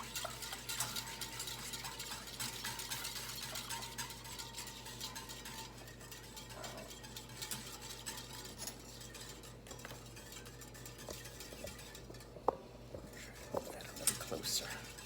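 A whisk scraping and clinking steadily inside a pot of pastry cream on the stove, quiet metallic stirring with a low hum beneath and a couple of sharper taps near the end.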